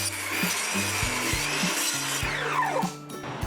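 Wooden 1x12 and 1x4 boards being cut with a power saw, a steady close buzzing whine with short rhythmic breaks as the blade works through the wood, and no talking.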